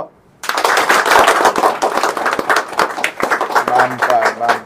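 A crowd of people at a computer training institute's prize distribution clapping together, a dense burst of applause that starts abruptly and continues steadily for several seconds.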